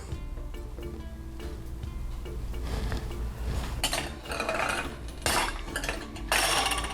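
Baked mini artichoke quiches are lifted out of a metal baking pan, with scattered metallic clinks and clatters that grow busier toward the end, close by and with no talking.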